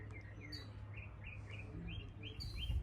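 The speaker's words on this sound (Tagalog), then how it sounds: "Oh, may mga ibon." Small birds chirp with repeated short tweets at a resting spot by the water in Ashland City, Tennessee, moderately near and steady over a low background hum, with no talk.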